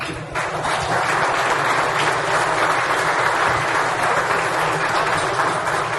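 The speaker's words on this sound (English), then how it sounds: "we need to give a round of applause to Mr. David Wyatt." Loud, sustained audience applause fills a hall at a football hall of fame enshrinement ceremony, a dense even wash of clapping that holds steady throughout with no voices over it.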